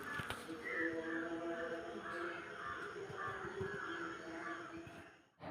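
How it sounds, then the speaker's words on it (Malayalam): Crows cawing outdoors on a cool morning, repeated harsh caws overlapping in a steady chorus at moderate distance, with no talk over them. "പുറത്തോട്ട് വരുമ്പോൾ നല്ല കാക്കയുടെ സൗണ്ട് കേൾക്കുന്നുണ്ട്."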